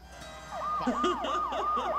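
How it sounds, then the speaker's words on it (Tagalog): A police siren wails in repeated rising-and-falling sweeps, loud and steady, with the slow cycles following one another closely for the length of the clip. "Ayan na, may wangwang."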